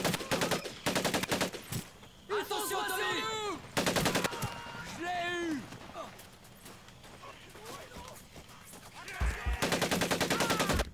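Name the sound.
gunfire in the video game Medal of Honor: Pacific Assault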